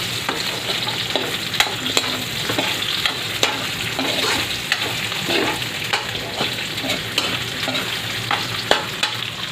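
Pancit miki bihon noodles with chorizo and squid balls sizzle steadily in a pan while being stirred, with frequent close scraping clinks over the constant frying hiss.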